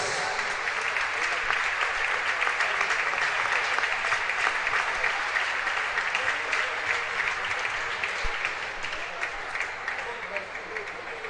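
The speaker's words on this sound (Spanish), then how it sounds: "Fuerte aplauso para ellos." Spectators at the 30th Copa Galicia Senior Femenina women's football final give the organisers a strong round of applause, a long, dense, steady clapping that slowly tapers near the end, with some voices mixed in.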